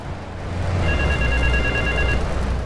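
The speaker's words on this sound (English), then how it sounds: "The phone going off." A telephone rings in Grand Theft Auto III, a steady electronic trill lasting a little over a second over a constant low game background with no talk.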